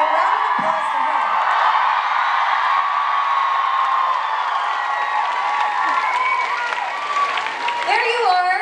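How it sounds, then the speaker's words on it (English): A live audience at a Demi Lovato speaking event breaks into sustained loud applause and cheering, with dense clapping and scattered whoops and yells throughout. "So round of applause to her."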